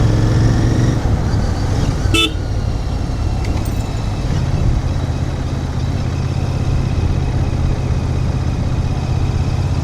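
Congested road traffic on the Bhongir to Hyderabad route, heard from a motorcycle, with a steady loud engine and road roar, a couple of sharp horn toots early on and fainter honks later.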